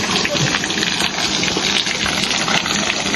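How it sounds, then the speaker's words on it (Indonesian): Cold spring water gushes steadily into bottles being refilled at a mountain spring on Mount Ciremai, a loud continuous close-up splashing rush. "isi ulang air yang udah kosong kita minum selama perjalanan tadi di mata air"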